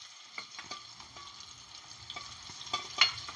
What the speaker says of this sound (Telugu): నూనె వేస్తే మంచిగా వేగుతుంది